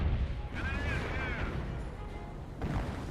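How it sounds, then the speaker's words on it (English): Mortar firing in the Company of Heroes World War II strategy game, heavy muffled thuds under a steady battlefield rumble while a voice talks over it. "Mortar firing away."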